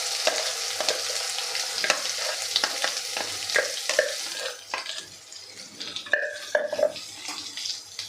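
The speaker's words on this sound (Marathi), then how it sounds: "आता हे सगळं आपल्याला परतून घ्यायचं आहे तेल सुटेपर्यंत परतायचं आहे" Spice paste sizzling in hot oil on a low flame, with repeated scraping and stirring strokes over steady frying, the sizzle settling into softer bubbling pops toward the end.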